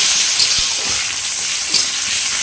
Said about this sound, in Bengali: পেঁয়াজ রসুনটা এরকম লাল করে ভেজে নিয়ে